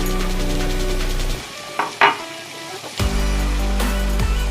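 Ginger and cumin paste frying in a pan with chili powder, heard as continuous loud sizzling with steady tonal hum, broken by a short quieter gap with a few scraping stirs before the sizzle surges back.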